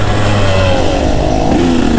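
A KTM 150 enduro two-stroke with an Electron carb runs close and loud while being ridden on a trail. Its engine note drones steadily, with a slight shift in pitch partway through.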